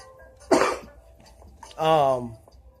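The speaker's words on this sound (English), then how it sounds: "Excuse my cough, but this weather has got me coughing like crazy." A single sharp cough rings out nearby, followed a moment later by a short stretch of voiced speech.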